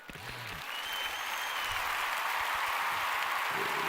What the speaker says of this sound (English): With the applause.